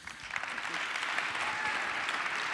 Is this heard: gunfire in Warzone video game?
no